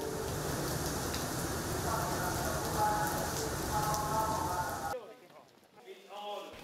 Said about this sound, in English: the rain is nonstop